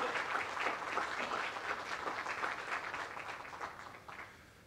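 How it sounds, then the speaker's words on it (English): Sustained applause from an audience at an evening museum lecture with totem pole dancers, dense steady clapping filling the room and slowly tapering off toward the end, no voices over it. "Can we give them a round of applause, please?"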